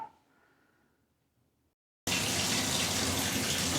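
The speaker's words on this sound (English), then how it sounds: "Okay, we got the water on." Water suddenly bursts on from a single handle shower faucet after a near-silent pause, then pours as a steady, loud, hissing rush close by.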